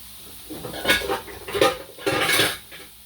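Metal pot lids clank and rattle against a cooking pot of water being brought to a boil for grits, three distinct bursts of clattering close by in a quiet kitchen, with no talk.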